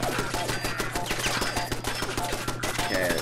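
Rapid machine gun turret fire in Fallout 4 rattles on continuously at close range, a dense stream of sharp shots filling the whole moment with no talk.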